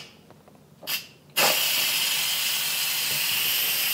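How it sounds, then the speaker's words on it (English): Pressure cooker holding chicken congee venting its remaining steam, a brief click and short puff, then a loud, close, continuous hiss that carries on steadily to the end. "There's still some pressure in there, so I'm just gonna release the rest of it."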